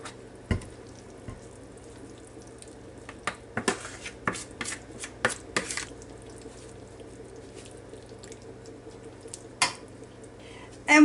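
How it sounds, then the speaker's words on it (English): Pineapple baked beans being stirred and spooned into a casserole dish: scattered close clinks and scrapes of a utensil against the dish, with soft wet sounds between them. "Mix it up real good. Put it in your casserole dish."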